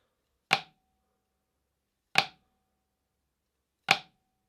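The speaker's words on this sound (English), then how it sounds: "A flam is a very soft note played right before a normal note." A flam rudiment on a drum sounds as three sharp, isolated strokes spaced about a second and a half apart, each a crisp close hit with a brief ring and no talking around them.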